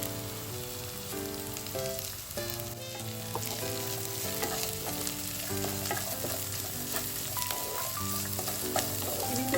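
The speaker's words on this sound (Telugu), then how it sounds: "ఇప్పుడు ఆనియన్ ఫ్రై అయ్యి బీన్స్, క్యాప్సికమ్, క్యారెట్ కూడా వేసేసుకోవాలి." Chopped onion, beans, capsicum and carrot sizzle and fry steadily in hot oil in a pan for a vegetable jonna upma, with a constant crackling hiss close by while background music plays.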